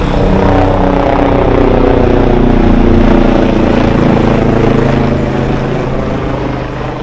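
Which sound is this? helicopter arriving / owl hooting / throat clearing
helicopter arriving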